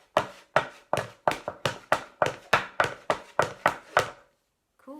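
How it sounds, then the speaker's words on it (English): Hard-soled shoes running across a wooden chopping board: a quick, steady run of about fifteen sharp, close knocks, then a brief pause and a faint trailing sound at the end. "We could also do some running."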